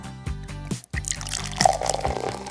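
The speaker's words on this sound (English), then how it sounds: "I'm pouring in my water." Water pours from a vessel into a container for a kids' home science experiment, a short gurgling, trickling stream that breaks off briefly, then resumes with splashy bubbling.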